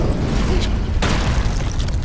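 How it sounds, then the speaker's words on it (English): A grenade explodes in Warhammer 40,000: Space Marine, a deep, booming blast with a sharp burst partway through, loud and dense over a rumbling low-end background. "he just stands there while the grenade goes off at his feet"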